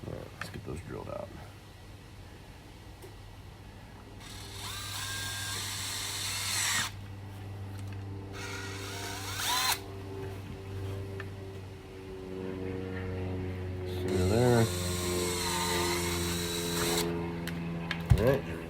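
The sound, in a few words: power drill drilling holes in a holster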